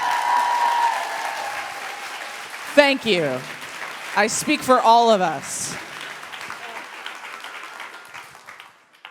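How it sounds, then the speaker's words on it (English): Audience applause for someone speaker at the Riveter Summit gender pay equity keynote, steady clapping filling the opening seconds, then fading under a speaker's voice as talk resumes. "can we just give her a freaking round of applause?"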